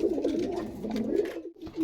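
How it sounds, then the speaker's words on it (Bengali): A male Madrasi pigeon on a Rajshahi pigeon farm coos close by in a continuous low, rolling call that breaks briefly before resuming. "এটা একটা নর পায়রা"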